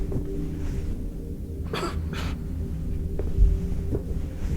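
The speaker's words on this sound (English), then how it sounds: "Coughing is a bad sign, man. Don't cough." A character in the Backrooms horror game The Complex: Expedition gives two short, breathy coughs over a low droning hum, followed by faint scattered noises.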